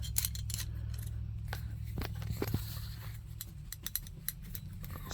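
A loose buckle on a tree stand strap clacks and ticks in scattered small knocks over a low rustling background. The sounds are faint and irregular, and no one speaks.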